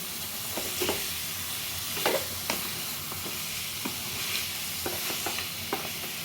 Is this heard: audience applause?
no